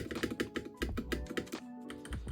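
Close, crisp typing on a FiiO KB3 HiFi audio mechanical keyboard, a quick irregular patter of soft, muted key clicks with a few heavier presses, alone and fairly quiet.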